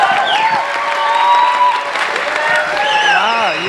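Audience applause with cheering at a film team Q&A in Phoenix, a steady clapping wash throughout while whistling or whooping tones and voices rise above it.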